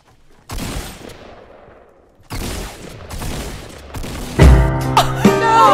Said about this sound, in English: Taking out a shotgun.